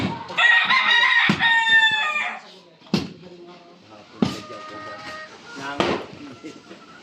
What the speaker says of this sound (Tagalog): Nagkakagulong manok.